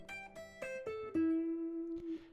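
Guitar notes plucked one after another in a rising second inversion arpeggio, each ringing on. The last note sustains softly, fairly quiet and close.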